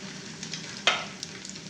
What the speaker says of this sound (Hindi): ये सारे सैंडविच फ्राई हो चुके हैं